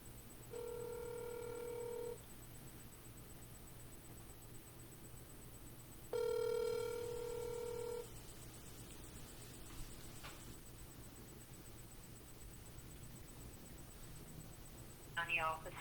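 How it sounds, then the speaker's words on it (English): Telephone tones in two long steady beeps several seconds apart, like a phone line signal, clear over low background hiss, with brief faint noises afterward. "we're going to call the law department"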